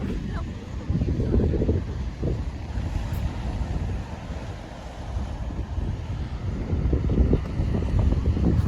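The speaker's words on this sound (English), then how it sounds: "Very, very windy." Strong coastal wind buffets the microphone in a constant low roar with gusty surges, loud and close throughout.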